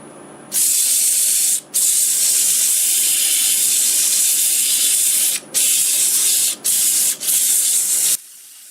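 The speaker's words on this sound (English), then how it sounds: "I'm going to sand in reverse at about 450 RPMs or so." A wooden bowl is sanded in reverse on a lathe at about 450 RPM, a loud, close, steady hissing rasp that stops briefly several times before ending abruptly.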